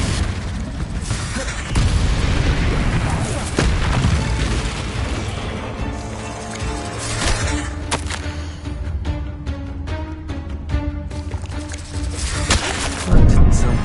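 Confringo blasting curse explosions in the Hogwarts Legacy video game come as loud booms and bursts with crackling debris, several blasts in a row that build to one heavy hit at the end, amid game sound and some talk.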